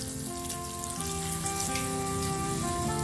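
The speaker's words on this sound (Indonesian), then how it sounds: "Ini saya masukkan pakai air secukupnya ya." Water splashes steadily into a cooking pot for a village-style vegetable dish of velvet bean skins, a continuous pour heard over soft background music.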